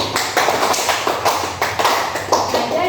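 Classroom applause rises in steady waves of many hands clapping together, fairly loud and close, without any talking.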